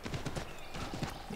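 Horse hooves clip-clop in a steady, fairly close rhythm as a rider travels along a road in the video game Assassin's Creed III, with no talk over it.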